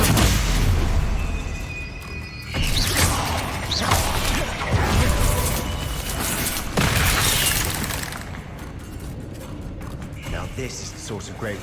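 Spells in the Hogwarts Legacy video game burst and crash one after another, dense booming impacts and shattering, crackling magic effects that stay loud and busy throughout the fight.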